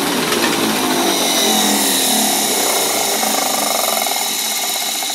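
A tractor's starter motor, converted from a 6 volt to a 12 volt system, spins fast with a continuous high whirring grind that stays steady and close throughout.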